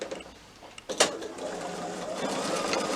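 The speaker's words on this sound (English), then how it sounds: "I'm just going to stitch all the way around." A sewing machine runs steadily, stitching around the edge of a small batik fabric wallet in a fast, continuous whir, preceded by a couple of brief clicks and a louder bump.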